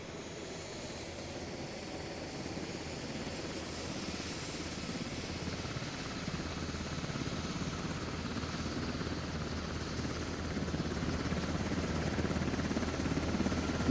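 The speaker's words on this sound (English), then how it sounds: "I'm taking this helicopter over to the tanks." Helicopter flying in a combat video game: a continuous rotor and engine drone that grows gradually louder and closer, with no talking.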